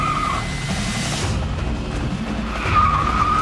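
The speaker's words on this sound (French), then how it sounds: "On va envoyer une voiture fusée! D'accord. 3, 2, 1, que la voiture décolle!" A rocket-powered car launching: loud, continuous tire squeal and skidding over a rough roaring rumble, with the high screech fading briefly in the middle and returning near the end, and no talking.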